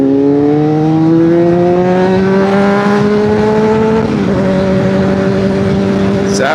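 Honda CBR600RR sport motorcycle engine droning steadily while riding, its pitch climbing slowly before dipping at a gear change and holding again, loud and continuous with constant wind and road rumble underneath.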